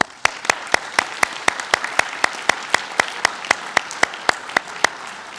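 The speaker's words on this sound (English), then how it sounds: "give another round of applause for all of our honorees" A reception audience applauds staff honorees at a recognition event, sustained clapping with one sharp, steady clap cutting through every quarter second over the dense wash of the crowd for about five seconds.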